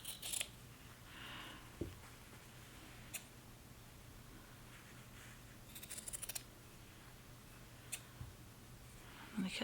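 Scissors cutting garment fabric during mending, a few quiet, scattered snips and clicks against a faint, hushed room background.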